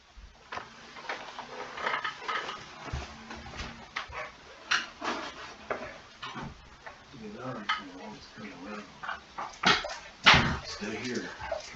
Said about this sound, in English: Got the doggies in the background.